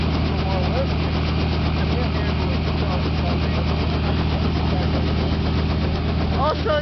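An engine hums steadily and evenly after a Robinson R44 helicopter lands illegally on a model airplane field runway, continuous and fairly loud with no break.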